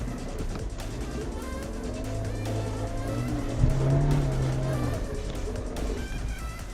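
A 2020 Suzuki Jimny 1.5 GLX climbs a steep slope with a steady engine drone, then the brakes are applied hard, with a brief tire squeal and rising rumble midway before the engine settles again.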